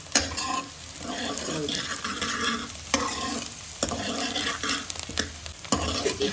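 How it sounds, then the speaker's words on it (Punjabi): Onions and cumin frying in a pan, a loud, continuous close-up sizzle with repeated sharp scrapes and knocks of a stirring spoon at irregular intervals. "ਇਧਰ ਪਿਆਜ਼ ਫਰਾਈ ਹੋ ਰਹੇ ਨੇ ਦਹੀਂ ਵਾਸਤੇ"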